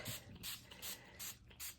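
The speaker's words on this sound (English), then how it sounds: "let me get my spray bottle" Five quick, rhythmic hissing squirts from a spray bottle, evenly spaced and close by, with faint clicks of the trigger between them.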